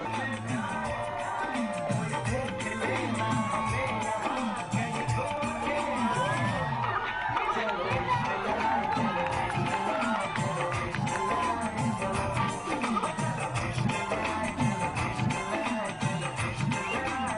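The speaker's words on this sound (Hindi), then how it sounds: "गोविंदा से मिलने के लिए काफी भीड़ भी जमा हो गई" A dense crowd of fans gathered to meet actor Govinda in Lucknow, a steady loud roar of mingled voices, shouts and cheering with no pause, bodyguards and police holding the throng back.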